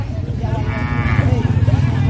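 Bali calves moo at a cattle market in Gorontalo, one drawn-out nasal call near the mic rising and falling over a busy low rumble of crowd and engine noise.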